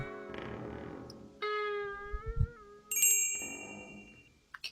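A bell rings in a video game, its tones ringing out and shifting in pitch, ending in high bright chimes, faint and without talk.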